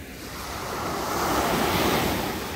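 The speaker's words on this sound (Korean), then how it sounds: "파도 소리 너무 좋다" Waves breaking on Haeundae beach, Busan, at night: a broad, rising roar of surf mixed with wind buffeting the microphone, with no talking.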